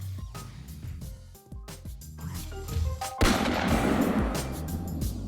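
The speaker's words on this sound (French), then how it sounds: "Un coup de feu plus tard, je décide de construire une petite base un peu plus solide." Gunfire aimed at a zombie in the survival game 7 Days to Die, a burst of sharp cracks and a heavy crash amid clattering game noise, loud and close with no talking.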